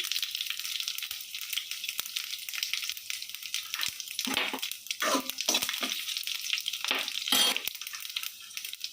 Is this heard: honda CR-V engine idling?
no